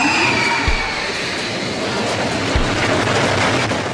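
Superman thrill ride roller coaster train running along its track, a loud continuous rushing roar with wind noise and two brief low thumps from the cars.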